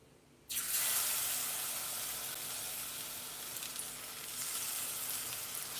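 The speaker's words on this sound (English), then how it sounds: "Now I'm going to add my fritters mix." Jamaican fritter batter hits hot oil in a pan with a sudden loud sizzle that bursts in after a brief quiet moment, then settles into a steady frying hiss with slight swells.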